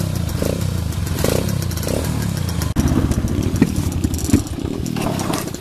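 A 250cc motocross dirt bike engine idling close by, a loud steady rumbling putter with mechanical clatter and a brief blip partway through, no talking.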